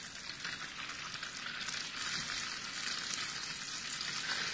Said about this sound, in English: head over to the stove and brown 1/2 cup of butter